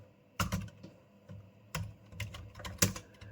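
Computer keyboard typing C++ code, with quick clusters of close, crisp keystrokes arriving in three short bursts separated by brief pauses.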